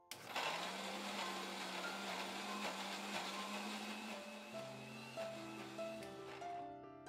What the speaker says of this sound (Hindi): हमने बिस्किट को पीसकर पाउडर की फॉर्म में तैयार कर लिया है।